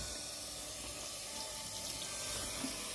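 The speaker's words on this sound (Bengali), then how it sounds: "খুব লাইটলি ঠান্ডা জল দিয়ে একটু ধুয়ে নিন" Cold tap water runs steadily over pumpkin flowers being lightly rinsed, a constant close hiss of flowing water with no talk.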